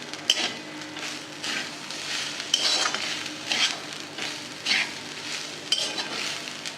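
Grated coconut for a modak filling roasts in a pan, with a soft sizzle and a spatula scraping and stirring in rhythmic strokes, plus occasional light metallic clinks.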